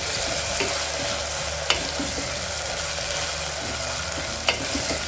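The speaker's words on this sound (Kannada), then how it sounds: "ಸೊ ಈಗ ಫ್ರೈ ಆಗ್ತಾ ಇದೆ." Spices and aromatics fry in a pan over a medium flame for a peas pulao, a close continuous sizzle with two sharp spoon clacks against the pan.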